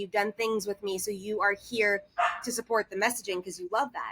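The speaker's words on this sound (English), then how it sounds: "That's actually not my dog. That's the neighbor's dog." A neighbor's dog barks in repeated yips and woofs somewhere nearby, mixed in under a person talking steadily throughout.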